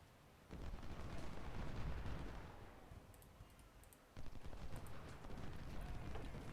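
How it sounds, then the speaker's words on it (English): Distant artillery and gunfire rumble through a Civil War battle at Saunders Farm in Ultimate General: Civil War, a sustained low roar of overlapping shots that drops away briefly before resuming, with faint clicks above. "this artillery is just aggravating the heck out of me"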